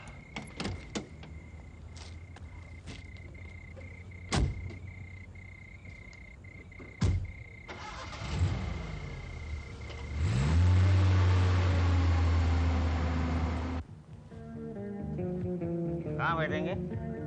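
A car door shuts, then the engine starts and revs loudly as the car pulls away, with a few sharp knocks beforehand and faint crickets in the background.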